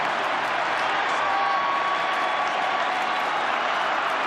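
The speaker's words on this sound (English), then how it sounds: "The applause rings out around Amy Park" Melbourne rugby league fans applaud together in a packed stadium at full time of a finals match, a dense, steady roar of clapping and crowd noise filling the whole stretch at even loudness.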